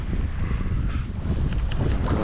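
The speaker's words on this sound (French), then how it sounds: "Bon ça y est, on a rattrapé le vent" Steady wind noise buffets the microphone aboard a sailboat running downwind under genoa in the strait corridor toward Gibraltar, a continuous low roar with faint water wash, no voices.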